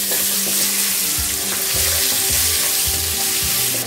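Large-cut chopped onions frying in a chicken gravy pan, with a steady loud sizzle, soft stirring scrapes and occasional low thumps throughout, no voices.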